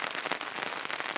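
Rain beginning to fall on a pop-up hunting blind at a whitetail deer camp, a dense, steady pattering of drops striking the fabric roof, close and continuous with sharper taps scattered through.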